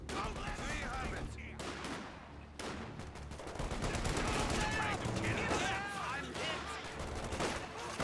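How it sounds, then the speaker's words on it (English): Battle in the Company of Heroes 2 strategy game, with a sniper shot among dense gunfire, explosions and shouted unit voice lines, loud and continuous throughout. "Good snipe shot there."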